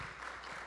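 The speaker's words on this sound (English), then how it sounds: "please give Adriene a big round of applause" Audience at a community music event applauding a performer, a brief, faint burst of steady crowd clapping.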